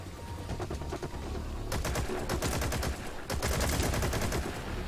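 Rapid automatic machine-gun bursts from the online multiplayer game Metal Gear Online, several rattling volleys of close, loud gunfire over a busy background of game noise.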